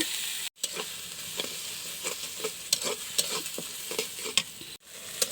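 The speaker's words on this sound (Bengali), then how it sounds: "এইভাবে লাইরা লাইরা সুন্দর করে তরকারিটা অনেক সুন্দর মতো কষাইতে হইব।" Peanut curry being stirred and sautéed in a pan, with repeated scraping strokes of the spoon over a steady close sizzle and two brief pauses in the stirring.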